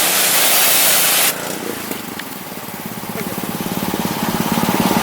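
Degreaser sprayed onto car engine parts: a loud hiss at first, then a lower, steady spray with a faint pulsing rhythm, close by with a machine running beneath.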